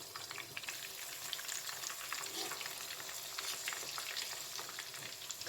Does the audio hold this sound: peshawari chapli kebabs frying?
yes